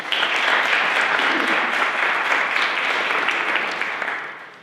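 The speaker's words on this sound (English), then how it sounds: "Let's give them one more round of applause." Audience applause for the AP seniors at a Poetry Out Loud school poetry recitation event, a dense, steady wash of clapping from a full room that holds loud throughout and thins slightly at the end.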